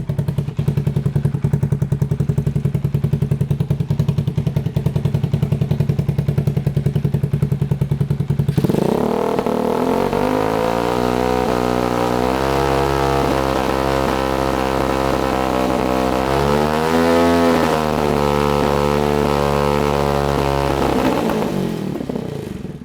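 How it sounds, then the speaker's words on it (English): A motorcycle engine with an aftermarket exhaust idles with a rapid loud thumping, then revs up to a sustained higher roar that holds for over ten seconds and rises again near the end. The engine stays close and loud throughout, with no talk. "So let's rev the engine."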